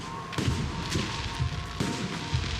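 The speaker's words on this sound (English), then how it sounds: "The noise from those fireworks should cover the sound of gunfire." Fireworks bursting in the Alpha Protocol video game, a series of deep booms and crackling thumps repeating roughly every half second over a continuous rumbling background.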